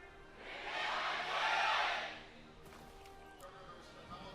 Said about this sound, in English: Griffin getting the bigger cheer this time around